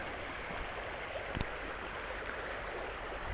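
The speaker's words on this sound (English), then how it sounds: "Here we are, looking at the river" A river running high after several days of heavy rain, heard as a steady, fairly close broadband rush of flowing water with no other sounds over it for the whole stretch.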